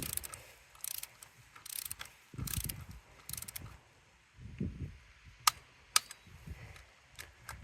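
A ratchet wrench tightens exhaust manifold nuts on a T1N Sprinter van, heard as close bursts of rapid mechanical clicking and whirring separated by short pauses, with a couple of sharp metallic taps near the end.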